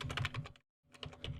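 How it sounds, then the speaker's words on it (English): Fast keystrokes on a computer keyboard while a password is entered, a steady run of close clicks that stops briefly, then resumes. "Then type in your password,"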